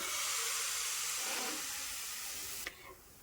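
Roll batter sizzles softly in a lightly oiled hot pan, a faint, steady hiss that eases off toward the end, closing with a brief clank, with no talking.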